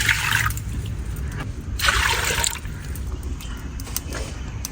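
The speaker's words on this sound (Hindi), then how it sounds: "थोड़ा सा पानी डाल लेते हैं।" Water poured by hand into a pot while cooking black chickpeas for a kale chane dahi recipe, a couple of splashy pouring bursts close by with quieter trickling between.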